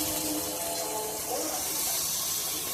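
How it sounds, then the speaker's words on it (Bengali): Water is poured into a pan of simmering curry gravy for a ridge gourd fritter curry, giving a close, steady rushing splash that lasts the whole short moment. "এবারে পরিমাণ মতো জল দিয়ে দেবো"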